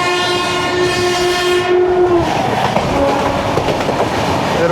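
A Roha–Diva MEMU passenger train passes on the opposite line, heard from aboard an express train. A loud horn blast sounds first, then a close, steady rush of rail noise and wheel clatter.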